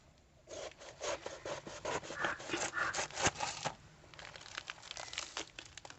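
A knife cuts open a ripe jackfruit, making close, rasping sawing strokes through the tough, knobbly rind for a few seconds, then softer scraping. There is no talk.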